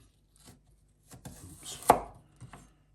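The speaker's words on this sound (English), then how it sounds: "So we're going to cut these into chips." A knife cuts potatoes into chips on a board, a few scattered soft strokes building to one loud sharp chop, then a final light cut, close by and without talk.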